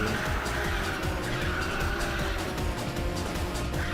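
Racing car in Ridge Racer 6 with a loud continuous engine roar and squealing, skidding tires, sustained and close throughout with no talk.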